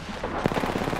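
Automatic gunfire in the video game Apex Legends, a dense run of rapid shots with one sharp louder burst near the middle, steady and close throughout.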